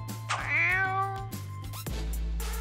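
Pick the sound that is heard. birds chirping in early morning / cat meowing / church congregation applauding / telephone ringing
cat meowing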